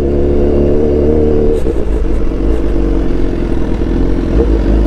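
Loud, steady engine roar from a Suzuki GSX S1000 GX motorcycle exhaust, close by, with a deep constant drone and some clattering mechanical texture throughout, no talk.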